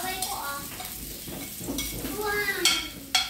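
Garlic is dropped into hot oil in a pan alongside tilapia, giving a close crackling sizzle with stirring scrapes and brief bursts of spatter, with faint voices nearby.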